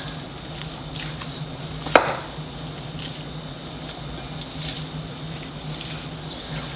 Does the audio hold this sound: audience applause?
no